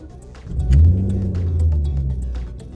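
A BMW E34 with a 4-litre engine idles nearby, a steady low rumble that swells slightly after a moment, with faint ticking above the drone.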